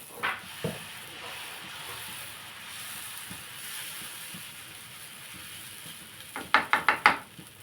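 Pesarattu batter hisses softly on a hot pan in a low, steady sizzle, and a quick burst of sharp metallic scrapes and clinks of a utensil on the pan comes near the end.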